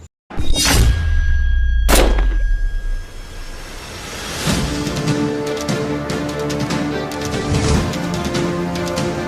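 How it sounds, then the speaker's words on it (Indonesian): A loud sudden blast with a deep booming thud, a second heavy impact moments later, then a long rumbling crackling tail fading under layered noise. "Suara ledakan terdengar keras."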